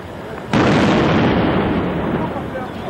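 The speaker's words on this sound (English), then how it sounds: "when Gurney flicked the switch to move the robot, he set off the explosive charge" An explosive charge detonates beside a bomb disposal robot: one sudden, loud, close blast that erupts at once into a long, broad roar and slowly fades.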